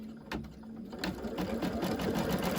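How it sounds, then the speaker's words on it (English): An embroidery machine stitches down a puffy foam coaster, a steady, continuous mechanical whirr of rapid needle strokes running throughout at close range. "it's going to stitch it down"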